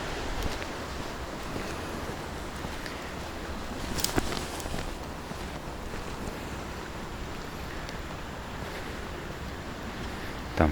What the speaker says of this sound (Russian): Звук волн